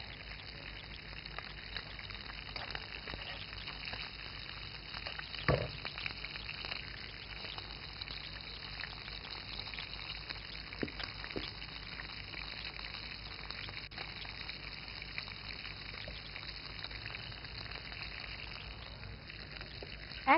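Chopped onion frying in oil in a wok with fenugreek and nigella seeds, a steady close sizzle and bubbling hiss with occasional clicks of a utensil, no talking.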